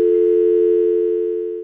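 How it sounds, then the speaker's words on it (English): A mobile phone sounds a single steady electronic tone, loud and close, holding unbroken for the whole moment before cutting off. "It's just my phone."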